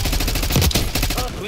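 Rapid automatic gunfire in Black Ops 6, a dense run of loud, close shots fired in quick succession for about a second and a half.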